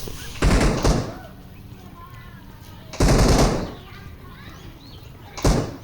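Gunfire in the PUBG Mobile video game: three loud bursts of automatic fire spaced a couple of seconds apart, with quieter game ambience and faint voices between them.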